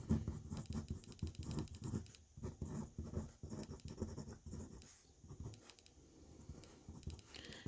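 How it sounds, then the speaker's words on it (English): A pen scratches across paper at close range in quiet, faint bursts of short strokes and small pauses while categories of movies are written into a frequency table. "what I'm going to do is just write out the different categories of movies."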